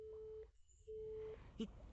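After a call is hung up, a telephone busy tone sounds in two faint steady beeps separated by a gap, followed by a soft click.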